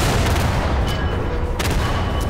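Gunfire in Garry's Mod, a dense, loud burst of rapid shots layered into a continuous roar with sharp cracks standing out near the end.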